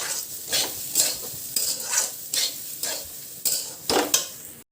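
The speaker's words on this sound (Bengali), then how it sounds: "অনবরত নেড়ে যেতে হবে, নাহলে কিন্তু নিচে লেগে যাওয়ার চান্স থাকবে" Rice fries in a pan for khichuri and is stirred continuously with a spatula. About nine rhythmic scraping strokes sound close up over a soft sizzle, with no talk.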